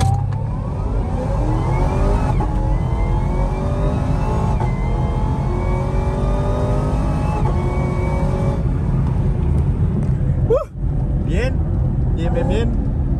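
A supercharged Chevrolet Camaro accelerates hard, its engine note climbing in repeated pulls before a brief drop near the end and another rise, loud and close, with voices talking over it.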